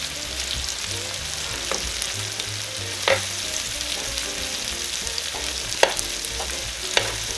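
Pre-cooked meatballs brown in a frying pan with a steady close sizzle and occasional stirring scrapes and clicks.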